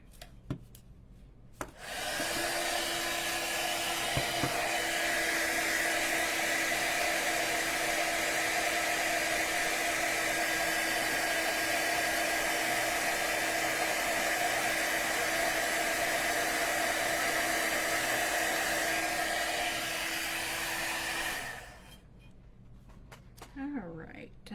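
A craft heat tool blows hot air steadily for about twenty seconds to melt gold embossing powder on a card, a loud continuous whooshing hum with a faint steady whine, starting and stopping abruptly.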